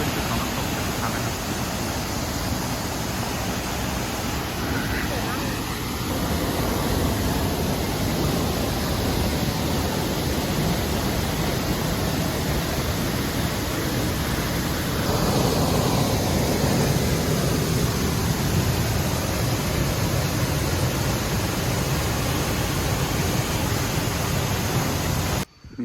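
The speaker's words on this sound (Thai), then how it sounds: "จุดนี้ก็จะเป็นจุดของน้ำตกทุกครั้งนะครับ" Haew Suwat waterfall in Khao Yai, Nakhon Ratchasima, Thailand, a steady, dense roar of falling water that stays constant and loud throughout with no talking.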